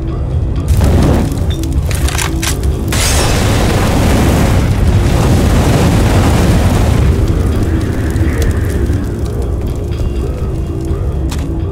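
A thrown explosive detonating in the video game Left 4 Dead, a loud booming blast that rolls into a long, roaring rumble of fire and debris, filling the scene for several seconds before slowly thinning.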